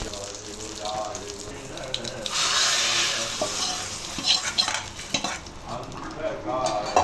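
Dried red chillies and curry leaves crackle and sizzle in hot oil for idli sambar tempering, a steady close frying hiss with occasional stirring clatter and scraping throughout.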